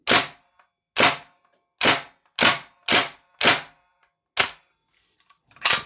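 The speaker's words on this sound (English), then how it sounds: "Just going to see if I can fire these out on semi-auto before I go." A Northeast Mini UZI gas blowback airsoft gun fires eight sharp, loud semi-auto shots at uneven intervals of roughly one second, each with a short metallic snap, and a few faint handling clicks between them.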